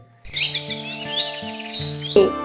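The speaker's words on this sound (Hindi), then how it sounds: "टूनी चिड़िया के रोने की आवाज सुनकर तोती वहां आ जाती है" A cartoon bird cries and chirps in a series of short, bright, tonal sobbing calls, close and fairly loud, rising to a sharper squeak at the end.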